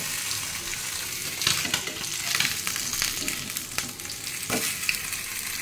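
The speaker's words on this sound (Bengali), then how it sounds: "ভাজা হয়ে গেছে।" Fish sizzles and crackles steadily in hot oil, with occasional scraping stirs of a utensil against the pan, close and continuous.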